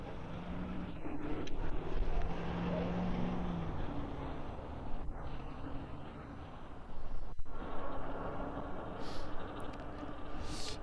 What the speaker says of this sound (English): this wind is hardcore right now